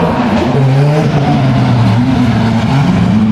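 A Super Formula race car roars past a corner at a Red Bull Racing Day event in Tokyo in 2021. The engine note is loud and close, its pitch rising and falling as it passes, with no talking.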